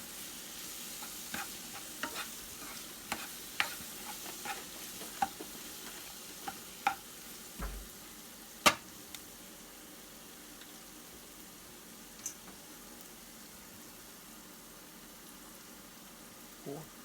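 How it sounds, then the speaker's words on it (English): Milk is poured into sausage gravy thickened with flour in a pan, with a soft, steady sizzle, faint stirring scrapes and a few sharp clinks of a utensil against the pan. "Now we're going to add in our milk."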